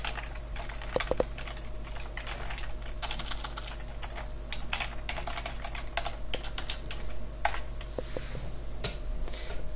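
Steady, fairly close typing on a computer keyboard while a name is entered into an online registration form, with quick irregular bursts of keystrokes over a low constant hum and no talking.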